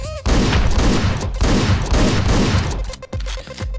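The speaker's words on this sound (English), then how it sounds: "He dies with one shot of a shotgun," Heavy blasts in Hotline Miami, a chaotic run of loud booming shots with brief gaps, close and harsh, ending in a couple of sharper isolated bangs.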